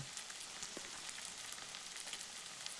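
Garlic and spices frying in a pan while preparing Bengali wedding-style chicken kosha: a soft, steady sizzle with small crackling pops, quiet and close, with no talking.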